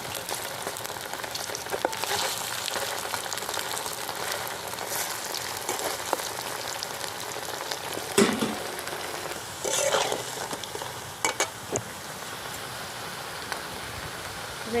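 Sabudana pakoras frying in hot oil, a steady broadband sizzle and crackle running throughout with a few sharper pops and spatters along the way.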